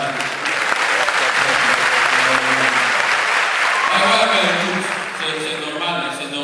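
Loud, dense applause from a large crowd for an ambassador at a Tabaski gathering in Niamey, sustained and close, tapering off near the end as voices emerge beneath it.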